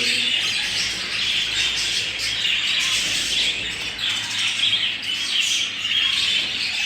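Budgerigar chicks chirping continuously, a busy chorus of high, thin tweets and squawks from several young birds close by, with no talking.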